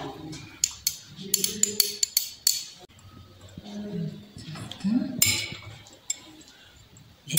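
Boiled leaves are lifted with a glass rod and dropped into a glass boiling tube during a starch test, giving scattered sharp glassy clinks and taps with quiet handling noise and a low voice in the gaps.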